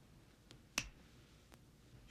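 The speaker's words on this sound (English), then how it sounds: "I'm going to snap my fingers" A single crisp finger snap rings out, sharp and fairly close against a quiet background, with a couple of fainter clicks around it.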